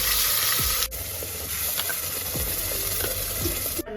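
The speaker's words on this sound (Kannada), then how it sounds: "ಒಗ್ಗರಣೆಗೆ ಈಗ ಮಸಾಲೆನ ಹಾಕ್ಕೊಳ್ಬೇಕು" Steady close sizzling of spices frying in hot oil, a continuous crackly hiss with occasional soft clicks of a utensil.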